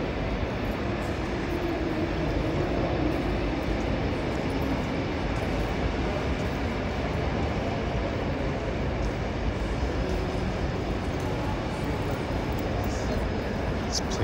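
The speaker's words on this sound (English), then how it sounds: "Antwerp train station." Constant, loud rumbling ambience fills the Antwerp train station, a broad wash of train and crowd noise that holds steady throughout with no clear break.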